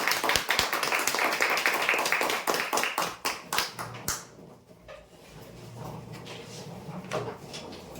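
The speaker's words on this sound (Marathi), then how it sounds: "जोरदार टाळ्या होण्यासाठी." Applause from an audience at a prize draw event, loud, dense clapping that thins into scattered claps after about four seconds and fades to a low room murmur.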